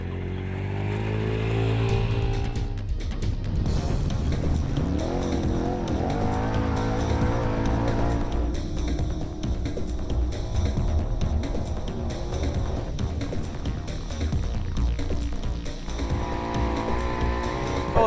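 Snowmobiles test ridden on a back-acreage trail at the Speedworks property, engines revving and droning continuously, with whining pitch swings as the machines accelerate past fairly close.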